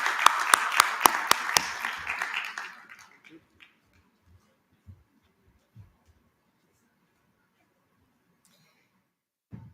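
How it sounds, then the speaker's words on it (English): A conference audience at a social impact panel claps warmly for about three seconds, then the applause quickly dies away into near silence broken only by a few faint small sounds. "Warm round of applause, please."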